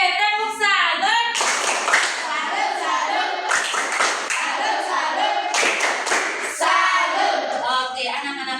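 Children in a classroom clap a 'tepuk salut' routine, with rhythmic bursts of hand claps alongside chanting and calling voices, fairly close and loud, during a coding lesson.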